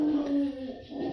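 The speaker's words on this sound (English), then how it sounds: "that's my dog going off" A dog indoors lets out a drawn-out, wavering howl mixed with whimpering, moderately near and fairly faint, lasting about a second.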